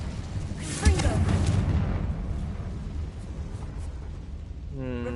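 A Confringo explosion spell goes off in the video game Hogwarts Legacy as one loud, sudden burst followed by a sustained rumbling roar that slowly fades under game ambience.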